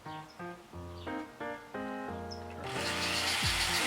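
A Dremel rotary tool with a flex shaft whirs in short bursts, stopping and starting several times, then runs continuously with a rising, hissing whine; close by.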